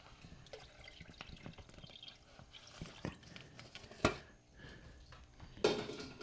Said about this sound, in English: this is all I do. I just add water